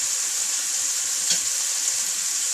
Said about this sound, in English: I'm going to add a little bit of water, because I don't want to add more oil